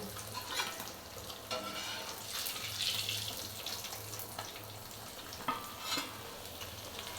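Fish frying in a pan gives a soft, steady sizzle, with occasional clinks and scrapes of stirring, fairly faint and close.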